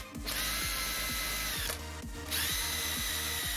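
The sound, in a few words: power drill bolting down brackets on office chair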